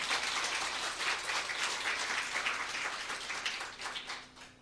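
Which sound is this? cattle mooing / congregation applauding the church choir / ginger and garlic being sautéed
congregation applauding the church choir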